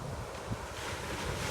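Ocean surf rolls onto a beach in a continuous broadband wash, steady and fairly loud, with wind blowing across the microphone and no voices.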